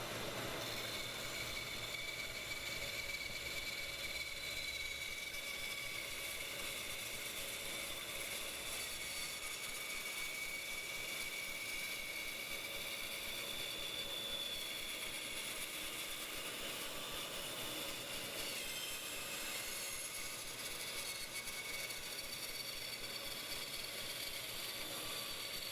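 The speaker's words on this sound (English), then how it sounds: "I just use a bandsaw to remove the excess once they're attached." A bandsaw trims the excess from knife handle scales already attached to the blade, giving a steady, continuous mechanical whir with a faint ringing edge that runs unbroken throughout, with no talking.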